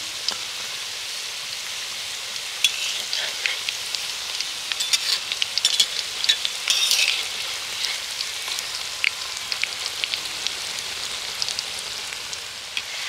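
Flour-dough snack sizzling and crackling steadily in hot oil in a pan, a continuous close frying hiss with small spits and pops, briefly busier as the pieces are turned over, no talk.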